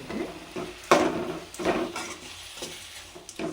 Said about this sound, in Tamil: நல்லா பெரட்டி விட்டுங்க.